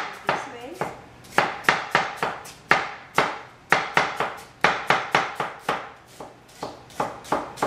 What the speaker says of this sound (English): So I chop the onion is very small.